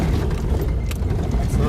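An old Nissan 4x4 drives off road in the Judaean Desert, its engine and tyres giving a close, continuous low rumble with rattling, while people talk over it.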